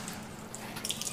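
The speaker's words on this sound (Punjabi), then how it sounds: "ਪਾਣੀ ਸੁੱਟ ਤੇ ਠੰਡਾ ਕਰ ਦਿੰਦਾ ਪਾਣੀ" Water splashes and trickles onto a freshly made weld to cool it, a brief, faint pour with a light hiss rising near the end.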